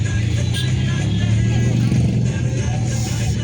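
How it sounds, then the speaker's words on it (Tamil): Busy road traffic near a DMart store, with a steady loud rumble of cars and motorcycles passing close by throughout, continuous and dense. "ரொம்ப டிராஃபிக்காக இருக்குது இந்த இடமே"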